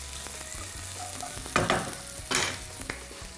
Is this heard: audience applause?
no